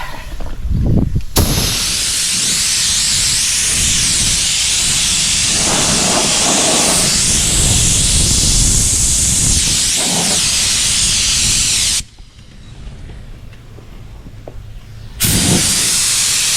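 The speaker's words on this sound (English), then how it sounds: "let me see if I can blow it off with a little air" Compressed air blows water off a freshly painted surface, a loud continuous hiss running for about twelve seconds, dropping out briefly near the end, then bursting back on.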